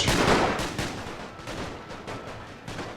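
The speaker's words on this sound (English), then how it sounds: "There's a bit of a firefight of the troops left on the front line, firing with the Romanian infantry" Dense gunfire from a World War I firefight between front-line troops and Romanian infantry in The Great War strategy game, with overlapping rifle and artillery shots in a continuous loud barrage and no talk.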